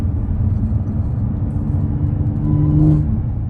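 A supercharged Audi B8.5 S4 engine hums and revs from inside the car, a steady low rumble with a mild rise in pitch and loudness near the end, unaccompanied by speech.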